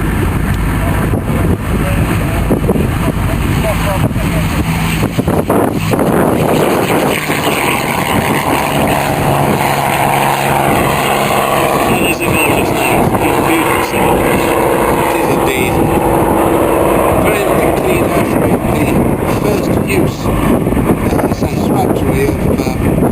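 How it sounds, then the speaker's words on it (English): A North American Mustang propeller aircraft accelerating at a vintage flying weekend airshow, its engine a loud continuous roar mixed with heavy wind buffeting on the microphone throughout. "Accelerating from the left, ladies and gentlemen, Peter Teichmann in the North American Mustang."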